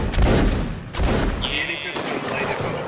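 A musket volley from line infantry in a battle game cracks out as a ragged burst of overlapping gunshots, then a second burst, loud and close. People talk over and between the shots.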